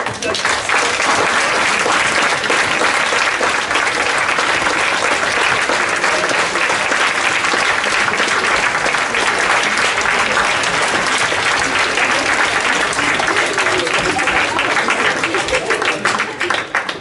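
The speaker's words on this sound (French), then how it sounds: "je pense qu'on peut encore applaudir à tous" Strong, continuous applause from a high school theatre audience after the play, thick and unbroken clapping lasting well over fifteen seconds with some voices mixed in.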